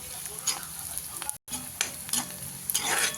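Onion stirred and frying in a pan for a chicken dish, a steady close sizzle broken by scraping stir strokes, with a brief silent gap partway through.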